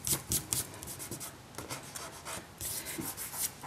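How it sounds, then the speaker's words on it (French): A finger rubbing dried masking fluid off a coloured card, giving soft, close dry rasping strokes in repeated bursts, quiet and alone with no talking. "je vais juste passer mon doigt, juste frotter mon doigt un petit peu. Et la gomme de réserve disparaît."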